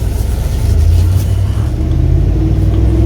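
A 2022 Ford F-350 XL regular cab utility-bed truck with only 29 miles drives on a test drive, its engine giving a steady, loud low rumble heard from inside the cab with no talk.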